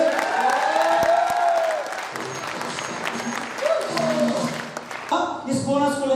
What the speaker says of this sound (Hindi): एक बार ताली बजा दो शानदार तरीके से।